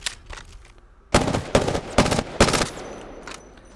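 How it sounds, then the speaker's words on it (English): The Prowler SMG in Apex Legends fires four sharp bursts in quick succession, loud and close, after a few faint single shots. "Now let's try out the Prowler, a close range SMG with a tremendous amount of recoil."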